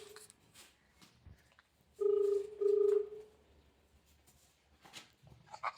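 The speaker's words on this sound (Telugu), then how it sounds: "ఈ ఫోన్ రింగ్ అవుతుంది మామ, రింగ్ అవుతుంది" A phone ringback tone sounds during an outgoing call, two clear sustained beeps around the middle of an otherwise quiet stretch, with faint clicks around them.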